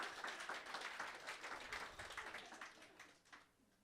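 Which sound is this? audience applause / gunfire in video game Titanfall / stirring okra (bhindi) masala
audience applause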